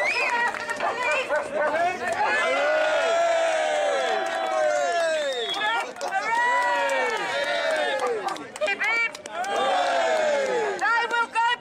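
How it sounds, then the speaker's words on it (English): An outdoor crowd at a lawful-rebellion gathering in Birkenhead cheers for the police, with many voices whooping and shouting together in a continuous loud swell that rises and falls. "We do a big cheer for the police."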